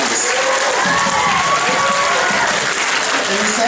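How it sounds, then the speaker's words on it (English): Applause from the audience at a student forensics debate tournament, loud and sustained, with a few cheers and shouts mixed into the dense clapping. "I'd like some applause for that, Mr. Sanders."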